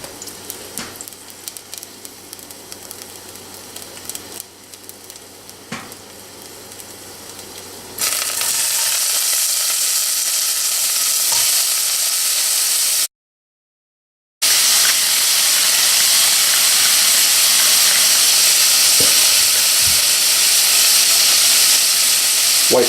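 Garlic sizzling in clarified butter in a saucepan: quiet at first, then a loud, steady, bright frying hiss that fills the rest, broken by one short silent gap.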